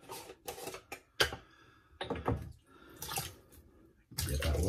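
Water poured out of a shaving bowl or mug during a wet shave with shave soap, heard as a few short splashy bursts separated by pauses, ending in a longer pour.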